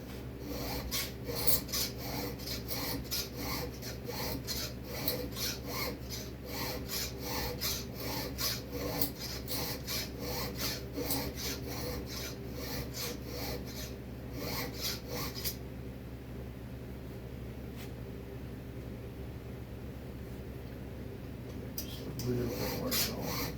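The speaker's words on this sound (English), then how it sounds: "I want to make sure I'm not filing into the coil." A hand file rasps in quick, steady strokes on metal near the ignition coil of an EFCO 152 chainsaw on a bench, close and continuous, then the strokes pause near the end, leaving a low background hum.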